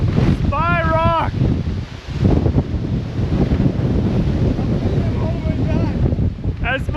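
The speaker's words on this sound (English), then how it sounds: "as you can see, it's pretty windy" Strong gusts buffet the microphone on the open summit of Spy Rock along the Appalachian Trail, a loud continuous rumbling roar with a voice breaking through briefly.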